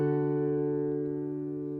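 A Gallagher mahogany dreadnought acoustic guitar rings out with a single sustained note that fades smoothly and cleanly, alone and close, with no voices over it.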